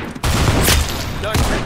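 Rapid volley of gunfire in a first-person shooter game, loud and dense bursts filling the clip, with a brief gap early on before the shooting resumes.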